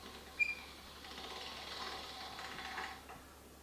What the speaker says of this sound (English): Once again I'm running it again through the machine.